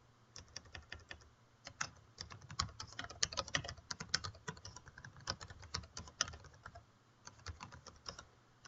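Rapid, uneven clatter of keys on a computer keyboard, close up, with brief pauses between bursts and no voices.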